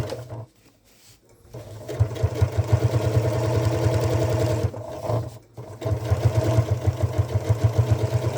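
Sewing machine stitching a one-piece tote bag, running loud and close in a steady rhythmic hum, pausing briefly twice and then starting up again.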